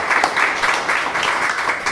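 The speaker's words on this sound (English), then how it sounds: "How about a big round of applause" An audience at a Startup Grind San Diego talk applauds in a dense, continuous wash of clapping that stays steady and fairly loud throughout.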